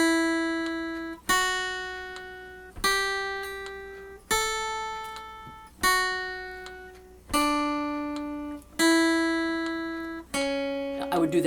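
An electric or acoustic guitar repeats two practice measures, sounding eight plucked notes or chords in a steady, evenly spaced rhythm; each rings out and decays before the next, clear and close with no speech.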